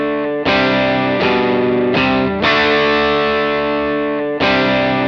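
Electric guitar through a Wampler Moxie drive pedal in its new mod mode, five strummed overdriven chords left to ring and decay, loud, close and unaccompanied.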